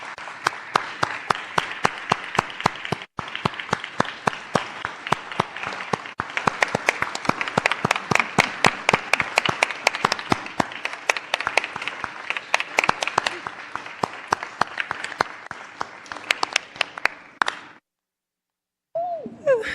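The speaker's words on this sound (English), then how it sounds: "the roaring applause is just a sign of a job well done" Applause at a Board of Aldermen meeting in a council chamber, sparse hands clapping in a sharp, distinct rhythm for about seventeen seconds, then stopping abruptly, followed by brief silence and a voice starting to speak.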